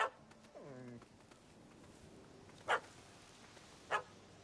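A puppy in The Witcher 3 gives a short whimpering yelp followed by two sharp, distinct barks spaced about a second apart, fairly faint against a quiet background, with a brief click at the very start.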